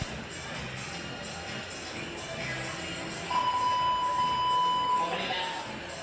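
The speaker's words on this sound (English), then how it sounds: "That's the buzzer in venue telling the competitors 1 minute left" At the British Bouldering Championships finals, the venue buzzer sounds a single steady tone lasting about two seconds to mark one minute left, heard over the murmur of the crowd and a commentator's voice.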